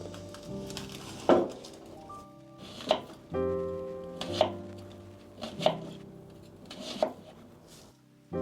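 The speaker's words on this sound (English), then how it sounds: "let me get my onions cut." Onions chopped with a knife on a cutting board, about six distinct, well-spaced thuds at a slow, uneven pace, close and fairly quiet.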